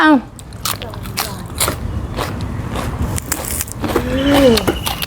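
Close, crunchy biting and chewing of food at a Thai meal of fried fish, beans in fermented fish sauce and rice noodles, with brief bits of talk at the start and end.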